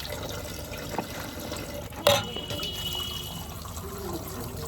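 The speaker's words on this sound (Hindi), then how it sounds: "तो मैं अभी धो रही हूँ बर्तन।" Water runs steadily while dishes are washed, a constant splashing wash with a couple of brief clinks and one sharper knock midway, close and alone.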